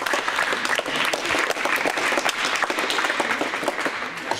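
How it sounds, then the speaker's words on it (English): Audience applause fills a high school comedy hypnosis show, a dense, steady wash of many hands clapping at close range throughout, with no pauses. "Give them all a big round of applause."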